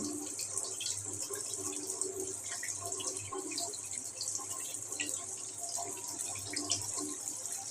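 Tap water runs continuously into a sink while fish is washed at home, a steady close splashing flow with occasional drips and light handling clatter throughout.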